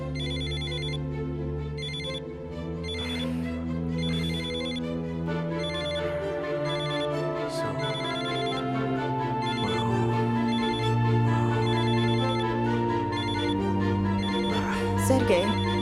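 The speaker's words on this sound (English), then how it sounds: "Come on, Sergei, just pick up the phone." A telephone rings with a repeating electronic ringtone melody, loud and continuous throughout, with faint voices and movement underneath.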